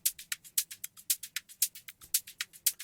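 Processed shaker loop for an electronic track, a fast even train of crisp, airy high-pitched shakes with thin gaps between them, fairly quiet and alone without talk.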